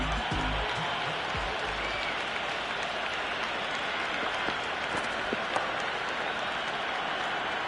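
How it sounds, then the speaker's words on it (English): Stadium crowd roaring and cheering after a six is hit over the rope in the cricket video game Cricket 26, a dense, steady wash of crowd noise with no let-up, a few claps poking through. "The crowd is electric right now."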